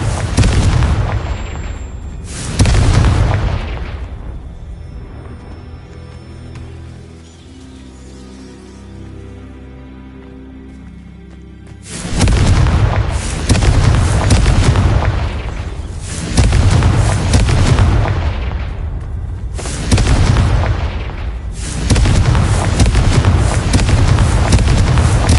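Repeated loud fire-spell explosions from Confringo casts in Hogwarts Legacy, heavy booming blasts in quick clusters, a quieter lull with rumbling in the middle, then several more powerful bursts.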